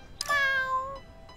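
A cat meows once in the video game Troublemaker 2, a clear, rising-then-falling tonal meow, close and alone.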